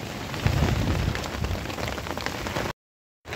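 Steady rain patters densely on a surface, loud and close, then cuts to silence briefly before resuming.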